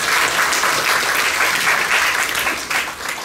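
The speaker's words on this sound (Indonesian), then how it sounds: "Kita berikan aplaus yang meriah." Audience at a school diversity launch event in Kupang gives sustained, lively applause, a dense wash of clapping that holds steady for the whole stretch and tapers slightly near the end.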